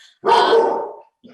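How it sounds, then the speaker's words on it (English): A dog gives a single loud, close bark that carries for most of a second, with a quieter short yelp or bark trailing after it, heard during an indoor talk at home. "Sorry about the dog."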